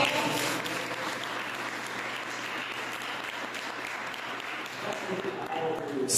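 A church congregation applauds during a service, a broad continuous wash of clapping with some voices mixed in, steady throughout and swelling again near the end.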